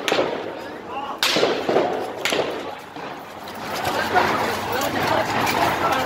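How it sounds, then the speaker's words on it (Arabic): Sharp cracks of live gunfire ring out a few times amid a noisy, shouting crowd of protesters near Baghdad's Khilani Square, each shot a sudden loud burst over the ongoing commotion. "هاي رصاص حي يستخدمون على المتظاهرين"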